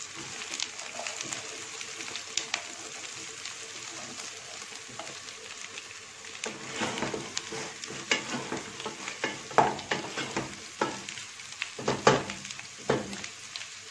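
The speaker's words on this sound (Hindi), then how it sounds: "प्याज फ्राई करेंगे। और प्याज़ों को ज़्यादा फ्राई नहीं करना, सिर्फ इनको थोड़ा सा सुर्खी माइल करना है" Onions frying alongside keema in a pan for karela keema, a steady close sizzle with intermittent scraping stirs growing busier toward the end.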